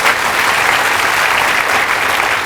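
A large audience at a film master class claps loudly together in a dense, steady wash of applause that holds evenly from start to finish without a break.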